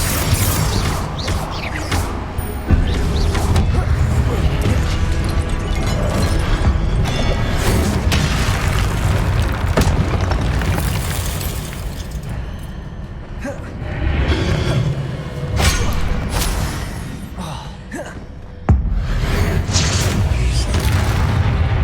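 Blasting-spell explosions in the video game Hogwarts Legacy, heavy booms and crashing bursts repeating through combat, loud and continuous with brief gaps.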